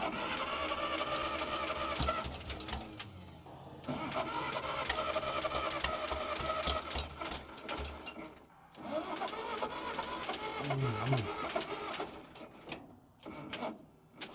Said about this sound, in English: We've been cranking the pony motor for so long that I killed the starter battery.